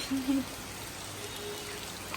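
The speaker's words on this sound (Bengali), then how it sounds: "বাইরে এত সুন্দর ওয়েদার বৃষ্টি হচ্ছে" Soft, steady rain hisses outside at a distance, faint and even, with a brief murmur of voice at the start.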